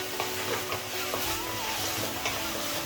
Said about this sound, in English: I've been roasting, or in fact frying the curd or dahi for almost 5 minutes on high flame